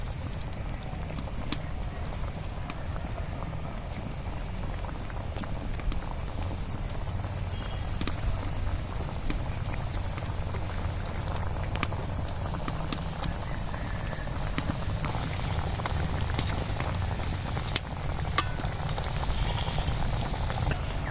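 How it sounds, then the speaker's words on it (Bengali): Curry gravy with potol and poppy seed bubbling steadily in a pan, a constant close simmering burble with light popping textures, unbroken and without speech. "ঝোলটা ফুটে গেছে"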